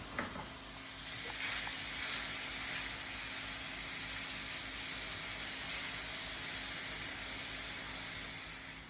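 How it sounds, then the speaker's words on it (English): Ground beef frying in a pan gives a faint, steady sizzle and hiss that continues throughout, with a few soft clicks near the start. "Then add the ground beef."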